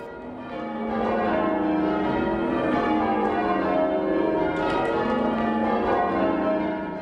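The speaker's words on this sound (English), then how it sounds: "ringing the bells together" Several church bells ring together in a dense, overlapping peal, their tones blending into a full, resonant wash that holds steady throughout.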